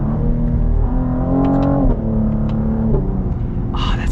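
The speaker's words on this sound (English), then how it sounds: "the sound you get on upshifts is just absolutely beautiful" A 2021 Cadillac CT5-V with a V6 engine revs up through upshifts, its harmonic drone climbing and then dropping at each gear change, sustained and close, with no talking.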